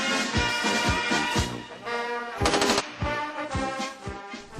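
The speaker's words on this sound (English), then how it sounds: "the recruits were also shown how to shoot their support weapons, that is, the light machine gun and the general purpose machine gun." Bursts of machine gun fire from light and general purpose machine guns at an army recruits' training range, loud repeated volleys over what sounds like a background music bed.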